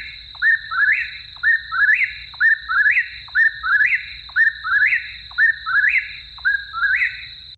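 Nighttime eastern whippoorwill song: a loud, nearby bird repeats its rolling three-part whistle roughly ten times in even succession, over a constant high insect-like drone.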